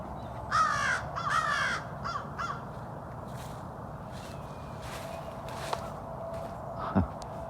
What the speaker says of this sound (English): There's like 10 crows just sitting around the hawk, keeping an eye on him.